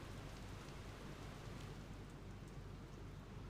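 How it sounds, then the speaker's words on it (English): Steady rain falls in the video game AFK Journey, a soft, even hiss of drops with a faint low rumble underneath, quiet and unbroken, with no speech. "It's rain."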